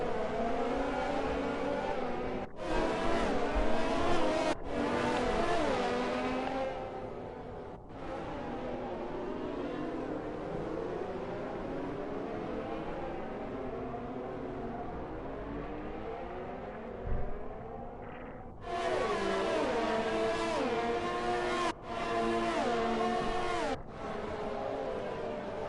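Formula 4 race cars in a PlayStation sim racing game on a circuit in Japan give a continuous high engine whine that rises and falls as they rev and change gear, with several abrupt cuts and a steady close-up drone.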